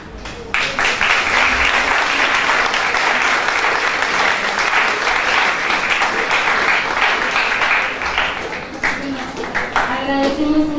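An audience at a conference on intercultural bilingual education in Peru gives loud, sustained applause after a talk. The clapping fills the whole stretch and a voice comes in briefly near the end.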